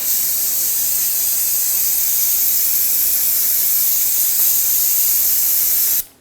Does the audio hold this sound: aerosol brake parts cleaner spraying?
yes